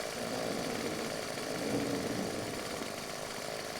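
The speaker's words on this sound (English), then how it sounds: "Turns out, it was a chainsaw." A chainsaw in Final Fantasy XIV: Stormblood drones steadily for the whole stretch, a dense, rough motor buzz at constant loudness with no speech over it.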